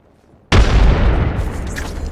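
A frag grenade in Apex Legends detonates after a brief quiet moment, a sudden loud boom whose rumbling blast and debris tail keep going to the end.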